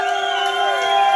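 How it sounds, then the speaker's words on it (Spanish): A lively crowd at a festive gathering honoring a couple cheers and shouts continuously, close and fairly loud, with sustained whoops and high tones running through the whole short burst. "Ahora quiero escuchar que hagan bulla."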